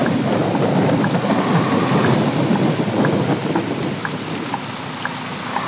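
Heavy rain pours steadily in the Universal Truck Simulator video game, with a dense hiss and patter, a low rumble beneath, and scattered drops striking a surface; no voices.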